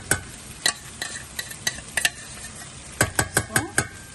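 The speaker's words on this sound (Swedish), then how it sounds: "så jag blandar här i min sås" Utensil stirring leftover lutfisk through a pan sauce, a string of close, sharp scraping and clicking strokes in two bursts with a brief pause between, no talk.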